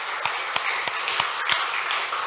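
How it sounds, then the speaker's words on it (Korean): A small congregation at a church worship service claps in a quick, evenly spaced run of sharp, moderately distant claps lasting a couple of seconds, with no talking over it. "우리 하나님께 영광의 박수 올려드리겠습니다."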